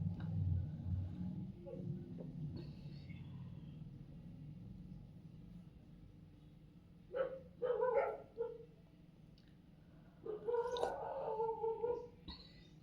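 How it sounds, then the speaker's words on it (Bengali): Dogs bark outside at night, a few separate bouts of barking at moderate distance over a low background rumble, with quiet stretches in between. "দেখো কিভাবে কুকুর ডাকছে"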